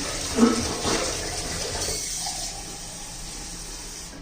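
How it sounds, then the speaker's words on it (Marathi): Water pours into a pressure cooker holding chickpeas in a steady splashing stream for about two seconds, then eases into a softer trickle before fading. "तर थोडं पाणी घालूया"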